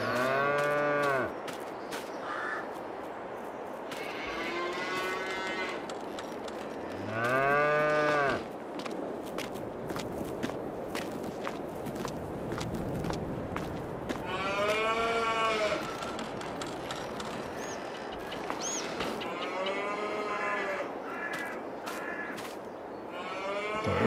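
Cows mooing in the Farming Simulator 22 game on an old Polish farm, several long, loud moos repeating through the clip over steady farmyard ambience, with a few crow caws in between.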